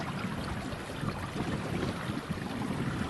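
A sailboat under way on Albemarle Sound in North Carolina, with steady wind rush and water wash against the hull, continuous and fairly loud throughout, with no talking.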